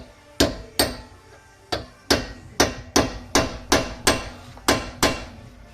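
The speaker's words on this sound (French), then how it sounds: "maintenant je prends mon chasse-goupille, ma massette, et là je viens finaliser" A mallet drives a pin punch to lock the rear wheel bearing nut on a Peugeot 309 GTI, making about eleven sharp, ringing metallic blows in an uneven rhythm, close and alone.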